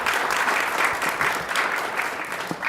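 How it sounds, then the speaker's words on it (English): An audience at a live event with a morning breakfast bursts into steady applause, a dense patter of many hands clapping at moderate volume throughout with no talking over it. "Round of applause."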